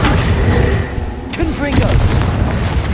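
Confringo blasting spell from Hogwarts Legacy, heavy booming blasts layered over a dense, roaring combat din, loud and sustained with a voice partly audible underneath.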